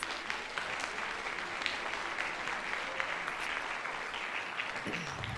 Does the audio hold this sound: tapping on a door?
no